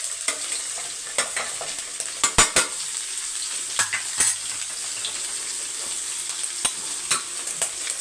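Grated coconut sautéing in a pan until golden brown, a steady soft sizzle broken by sharp scrapes and clinks of a spoon stirring at irregular intervals, close and fairly loud with no voices.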